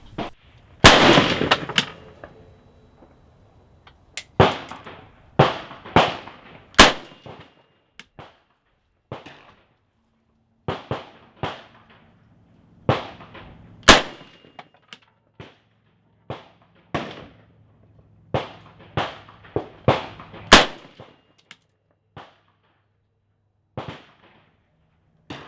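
An Arsenal SLR-104UR Krinkov rifle fires Wolf 5.45 hollow point rounds outdoors: loud, sharp single gunshots with irregular spacing across the stretch, each followed by a brief decay, some shots in quick pairs, no speech.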